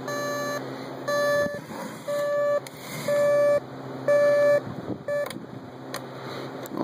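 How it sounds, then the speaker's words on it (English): A Panasonic RC-X220 clock radio alarm sounds in repeated bursts of electronic beeps, each burst lasting about half a second with brief pauses between, fairly loud and close over a steady background hum. "There's the alarm."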